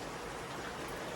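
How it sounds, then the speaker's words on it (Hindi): Heavy rain pours down in a dense, steady hiss, loud and close with no break. "ये देख सका था बारिश, बहुत ज्यादा बारिश"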